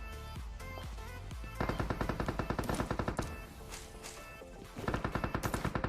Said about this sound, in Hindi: पीछे बहुत तगड़ी फायरिंग चल रही थी